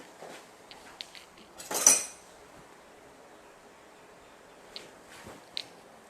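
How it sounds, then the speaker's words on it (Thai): A knife cuts a pan-cooked pizza on a cutting board, giving a few sharp clinks and scrapes against the board and dishes, with one louder scraping cut near the start and quieter taps after. "แล้วเราก็จะหั่นใส่จาน"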